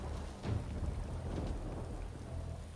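Rain and thunder from a rain spell in the video game Divinity: Original Sin 2, a steady patter of rainfall with low rumbling thunder, no talking.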